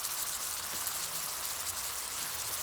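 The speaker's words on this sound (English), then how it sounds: "You can hear that sizzle, that's exactly what I want." Carrots sizzling in butter in a pan, a steady, dense hiss and crackle at moderate volume that continues evenly throughout with no voices.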